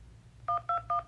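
Three short keypad beeps from an automated phone line, evenly spaced and crisp, standing out over a low background hum.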